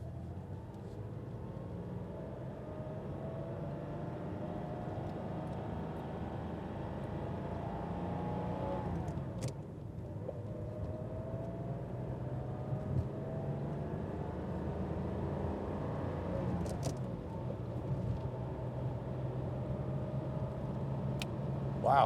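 A 1988 Porsche 911 Commemorative Edition engine drones steadily from inside the cabin, pitch rising as it accelerates, dipping briefly at gear changes, then climbing again.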